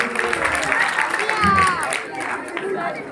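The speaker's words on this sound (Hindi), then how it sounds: "ये अभी है राहुल, इसके लिए जोरदार तालियां" Village crowd at a Guru Ravidas jagran claps for a student being honoured for exam marks, moderate applause and crowd murmur mixing with voices talking over it.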